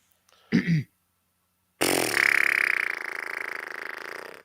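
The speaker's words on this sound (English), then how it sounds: "Dude, it was a fart." A short rough blurt is followed by a long, loud, rattling fart that sputters on for over two seconds before fading out, with no speech.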